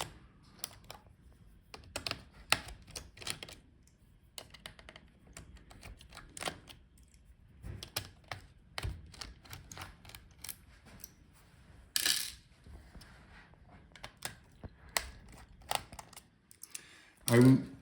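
Screws being removed from the hinge of a Dell Vostro 5620 laptop: scattered small metallic clicks, taps and scrapes at close range, irregular and fairly quiet, with occasional louder clacks and a brief thud near the end.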